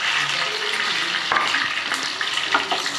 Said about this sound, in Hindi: इन्हें एक थोड़ा सा तड़का दे देंगे।